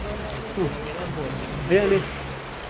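Heavy rain falls steadily at a cemetery, a constant broadband wash under voices as people talk nearby.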